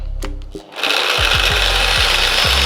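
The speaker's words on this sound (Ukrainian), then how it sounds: "вмикаю шліфмашину" A Dnipro-M WS-225S wall sander starts after a short pause and runs with a loud, steady whirring roar, with a few low knocks underneath.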